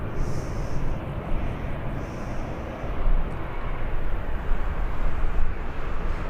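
A Boeing 787 Dreamliner at Birmingham airport produces a broad, steady jet rumble, fairly loud and unbroken, with no voices over it.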